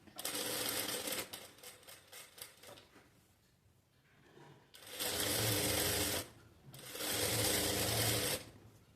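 A sewing machine stitches the halter neck of a blouse, running in three separate bursts of rapid mechanical whirring with quieter pauses between them, fairly soft and close, without speech.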